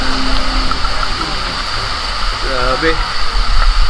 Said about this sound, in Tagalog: lakas ang ragasan ng tubig na may nakabarang kahoy